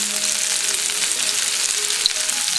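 Minced garlic sizzling in a hot pan for a sweet and sour shrimp stir fry, a steady close crackling hiss with no talk.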